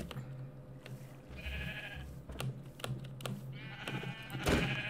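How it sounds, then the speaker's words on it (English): Sheep in the video game Minecraft bleat in a few short, nasal calls partway through and near the end, over a steady low ambient hum with occasional clicks. "That's a lot of sheep."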